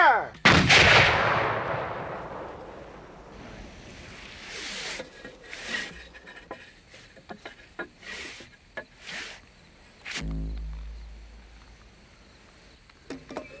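A Civil War artillery cannon fires a shell with a sharp, loud boom near the start, followed by a long rumbling decay and scattered outdoor noise, with a second heavy low thump near the end.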